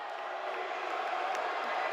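Large basketball crowd roaring at a boys high school game against Peoria Notre Dame during a free throw, a steady dense wash of voices and cheering with no breaks.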